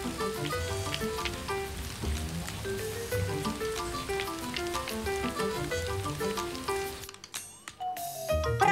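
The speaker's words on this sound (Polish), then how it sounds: "Deszcz pada." Steady rain patters over a rocky hill in an animated children's cartoon. The soft, continuous hiss sits beneath a prominent tuneful music score, which drops away briefly near the end.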